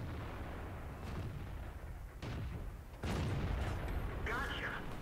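A Patton-59 tank's main gun fires in a video game, with booming shots and mechanical clatter layered over continuous game noise and background talk.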